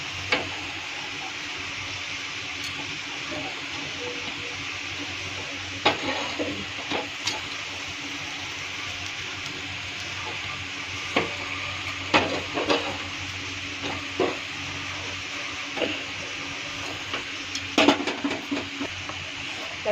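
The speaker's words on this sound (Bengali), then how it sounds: "একটু সময়ের জন্য টমেটোটা প্রথমে ভাজা ভাজা করে দেব।" Tomato frying in a pan, a steady sizzle running throughout with scattered clicks and scrapes of stirring, close and moderately loud, no talking.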